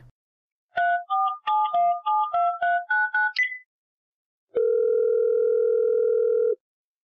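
A telephone line connects a caller to a Bangla call-in show, with a quick run of dialing beeps followed by a long, steady tone, clear and alone.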